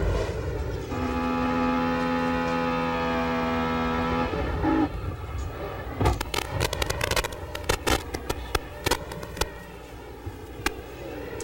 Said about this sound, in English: Listen to the sound of the engine here in this replay.